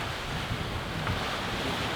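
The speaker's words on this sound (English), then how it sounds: "The waves are not as expected." Ocean waves and gusting wind surround a sailboat at sea during a tropical storm, a steady broadband roar of surf and wind buffeting the microphone with no voices.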